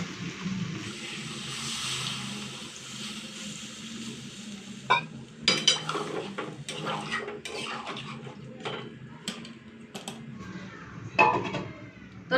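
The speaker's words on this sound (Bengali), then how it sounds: "তো ঢাকা দিয়ে দিয়েছি" A lid is set onto a pot of simmering soybean curry. Low bubbling runs underneath, broken by several sharp metallic clinks and clatters midway and again near the end.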